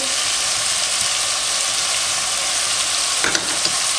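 Minced meat and vegetables sizzle steadily in a frying pan on the stove, a loud, even crackling hiss with a brief stir or scrape near the end and no talking.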